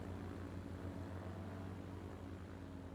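A propeller airplane taking off in the video game Transport Fever 2, a faint steady droning hum with a low engine tone that holds even throughout.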